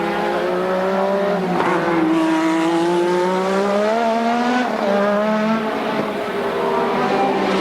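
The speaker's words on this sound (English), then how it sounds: "short squirt through the twisty little bits" A 1986 Formula One race car howls through twisty corners at the Australian Grand Prix. Its loud, close engine note rises and falls across several gear changes and throttle lifts, with brief tyre scrub. No one speaks.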